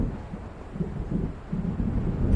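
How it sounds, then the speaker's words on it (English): Low, rumbling thunder and wind from an approaching storm in the video game Alan Wake, a continuous deep roll with no voices. "It seems there's a storm coming."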